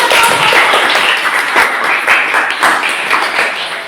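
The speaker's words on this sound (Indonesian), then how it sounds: "beri tepuk tangan dulu ya" A classroom of students applauds together after a lesson, dense steady clapping filling the room for several seconds at close range with no talk.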